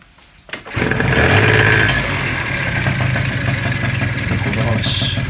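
A Yamaha Pop Gal two-stroke scooter engine kicks into life after a brief quiet start and runs steadily, loud and buzzy with a rough idling rattle, close to the listener.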